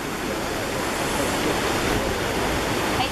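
A waterfall at a parking spot in Teresópolis gives a steady, loud, broadband rush of falling water that holds unchanged and close throughout, with no clear speech over it.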